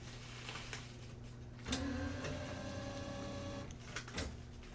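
An Epson F2270 direct-to-garment printer printing a hoodie gives off a steady mechanical hum with tonal whirring, and a louder carriage movement starts partway through, close and continuous with no voices.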